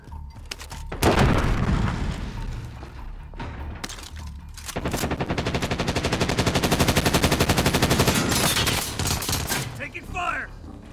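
Rapid automatic gunfire in the Warzone battle royale shooter, long loud sustained bursts with a shorter earlier burst and scattered single shots, close and dense.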